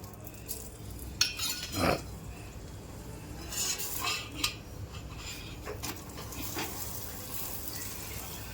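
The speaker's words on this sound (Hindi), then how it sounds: "अब हम पराठा उल्टा पलटा कर अच्छे से ऑयल लगाकर हम सेकेंगे।" A bathua aloo paratha roasts with oil on a pan over a medium flame as a spoon presses it down, giving intermittent close metallic clinks and scrapes over a soft steady background, with no talking.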